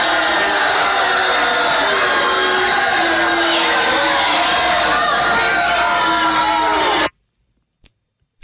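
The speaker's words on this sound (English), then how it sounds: "The crowd booed during the meeting" An angry crowd at a school voucher town hall, loud dense jeering and shouting from many voices that fills most of the clip before cutting off abruptly into silence.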